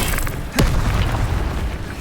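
An Incendio fire spell goes off in Hogwarts Legacy, a single sudden whooshing boom that flares and then trails off into a low rumbling tail.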